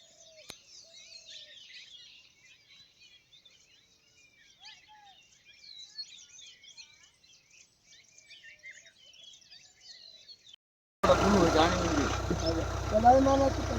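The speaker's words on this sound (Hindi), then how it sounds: "चिड़ियों की कितनी अच्छी आवाज़ आ रही।" Small birds chirp and twitter in a hill village in Uttarakhand, with faint, scattered high calls going on for several seconds. Then a sudden loud burst of nearby noise and voice cuts in and drowns them out.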